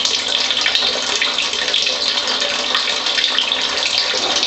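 Water from an IonQuench ionizer streams steadily into a blue cup, a continuous close hiss and splash at constant loudness with no talking.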